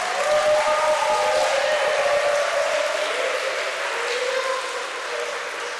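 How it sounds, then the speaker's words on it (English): Students in grades five to eight applaud a state representative at a school assembly, a moderate round of clapping with voices mixed in that gradually tapers off. "Let's give a round of applause for Representative Fernandez-Barquín."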